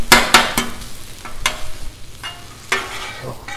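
Chicken sizzles and crackles on a hot Blackstone griddle while sharp metal spatula scrapes and clacks strike the surface every second or so.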